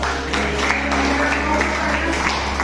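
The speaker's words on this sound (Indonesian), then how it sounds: "boleh kasih tepuk tangan dong" A high school classroom gives a round of applause, steady scattered clapping that fills the room evenly over a constant low electrical hum, with faint voices mixed in.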